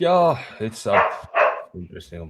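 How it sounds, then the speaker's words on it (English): A dog barks a few times in the background, short sharp bursts that break through ongoing conversation between several people. "Sorry about the dog."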